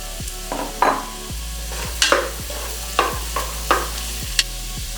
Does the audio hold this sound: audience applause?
no